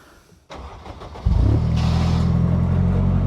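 Spartan sports car engine cranks briefly and catches, settling into a loud, steady deep idle that runs to the end, close by and with no talk over it.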